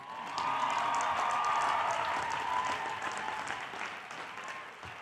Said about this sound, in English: Can we give a big round of applause to the people who funded this entire operation?